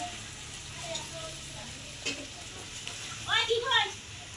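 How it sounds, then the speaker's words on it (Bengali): Pointed gourd frying in oil with a low steady sizzle and occasional stirring scrapes, while people talk nearby over it. "এই যে পটল ভাজা হচ্ছে"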